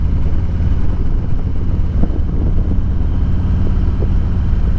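A 2020 Harley-Davidson motorcycle fitted with slip-on exhausts cruises in fourth gear at a little over 2,000 RPM, giving a steady, loud low rumble that holds without breaks, with a few faint ticks on top.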